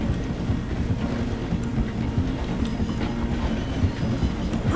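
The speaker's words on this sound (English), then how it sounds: "The train is slowing down to go through the station." A train in Red Dead Redemption 2 slowing through a station, with a steady loud rumble of wheels on rails and faint clickety-clack beats under the continuous roar and no voices.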